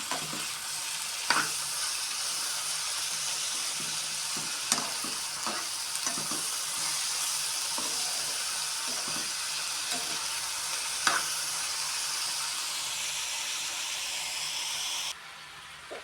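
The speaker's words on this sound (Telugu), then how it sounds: "కట్ చేసుకున్న ఆనియన్స్ వేద్దాం ఒకసారి కలుపుకుందాం" Chopped onions sizzle and fry steadily in hot oil as they are stirred in a pan for an egg omelette tamarind curry, with a constant loud hiss broken by occasional clanks of the spoon against the pan.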